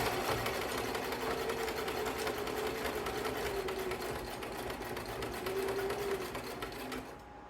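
A sewing machine stitches a flat seam without reverse stitching, its motor humming in a steady, close, continuous run with rapid needle clatter before it slows and stops at the end.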